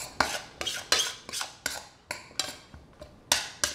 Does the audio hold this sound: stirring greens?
yes